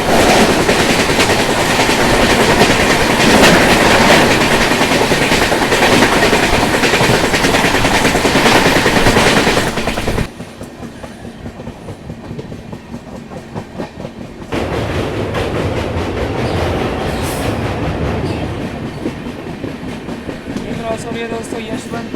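An express train passes on the adjacent crossing track, a loud close roar of wheels and rhythmic clickety-clack that drops off sharply, then a quieter rumble of cars continues rolling by.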